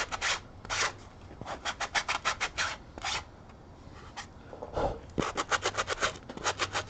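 Sandpaper rubbing across a 3D-printed part being smoothed, in repeated quick rasping strokes that come in bursts with short pauses between them, close and fairly loud, with no talking.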